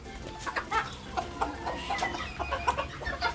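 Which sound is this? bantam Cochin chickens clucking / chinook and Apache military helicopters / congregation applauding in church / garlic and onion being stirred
bantam Cochin chickens clucking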